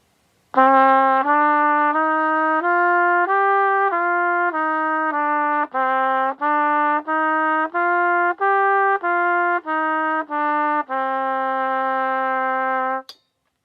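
A trumpet plays a stepwise five-note scale from D up to A and back down several times, each note clear and sustained, ending on a long held tone.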